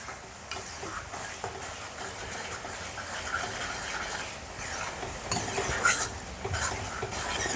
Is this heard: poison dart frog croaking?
no